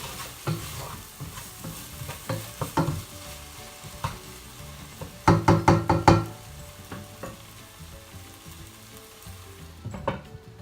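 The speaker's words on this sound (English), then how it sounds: "Then we mix it and cover it for a while." Salmon tomato masala with chopped coriander being stirred in a pan: repeated scraping and clacking strokes, a quick loud burst of several knocks in the middle, over a soft background sizzle with no talking.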